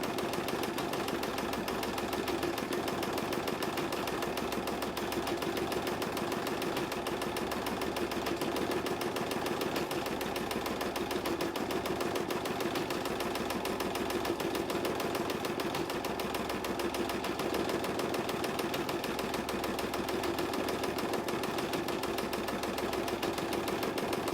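An embroidery machine stitches an in-the-hoop zip bag with a fast, even mechanical chatter, a steady droning hum running without pause at close range.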